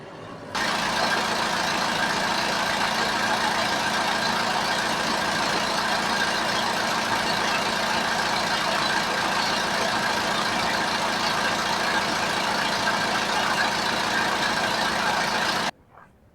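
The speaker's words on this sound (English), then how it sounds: "Let's get out and listen to the engine real quick" A TYM T4058PC cab tractor's diesel engine idles with an even, continuous rumble for about fifteen seconds, close and alone, then cuts off abruptly at the end.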